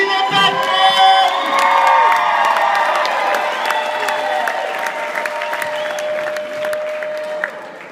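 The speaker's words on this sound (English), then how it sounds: "make some noise for PJ Turner and the newly engaged Tashina Beckman" A large crowd bursts into loud applause and cheering with whoops and shouts, swelling at first and then gradually tapering off.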